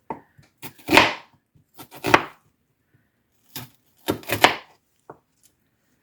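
Food being cut into wedges on a board, several distinct knife chops in uneven bursts with quiet gaps between them, close and crisp, no speech.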